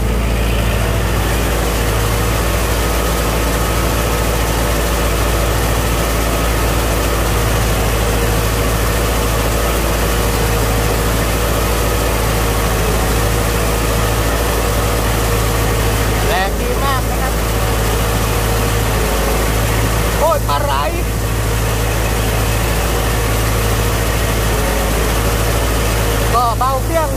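A tractor engine drones steadily and loud while pulling a rotary tiller through a field, with a constant low rumble throughout and a couple of brief scraping bursts partway through.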